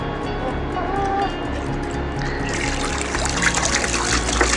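Cold water trickles and pours onto the ground in a horse yard, a steady wet splatter that grows brighter partway through, with a voice talking over it.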